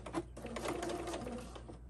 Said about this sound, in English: So here I'm going to do a really nice back stitch.